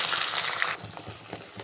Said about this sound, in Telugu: ఇది మనకి కొంచెం పచ్చివాసన పోయేదాకా దీన్ని మనం ఫ్రై చేసుకోవాలి.